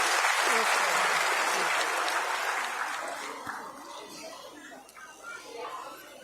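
Loud, sustained applause from an audience at a women's felicitation event as a speaker is welcomed, fading gradually with a voice heard faintly toward the end.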